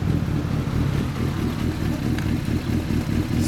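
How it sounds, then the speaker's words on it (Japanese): Ducati 998S Bayliss superbike with a Termignoni exhaust, running with a deep, steady low rumble that stays loud and close throughout, with no speech over it. "あのエンジン音聞かせてもらえますか？"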